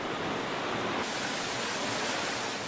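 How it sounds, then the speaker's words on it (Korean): Rushing water of a waterfall swollen by rainy-season flow, a dense, loud, continuous roar with no breaks, close and unaccompanied by voices. "멀리서부터 들려오던 물소리, 직접 보니 더 시원했습니다."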